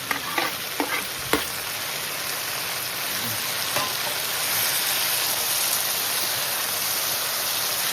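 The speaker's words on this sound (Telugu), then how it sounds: "టమాటాలు వేస్తుంది ఇప్పుడు." Tomatoes frying in a pan for a chikkudukaya curry, a loud, close, steady sizzle, with a few sharp clicks of a spoon stirring at the start and no talking.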